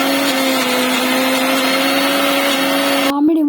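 A kitchen mixer grinder crushes crystal salt for mango ginger pickle with a loud, steady high-pitched motor whine and gritty rattle. It cuts off abruptly near the end.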